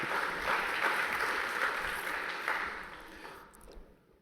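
A conference audience at a UNESCO inaugural event claps, a broad, moderately distant wash of applause that holds steady and then fades out near the end.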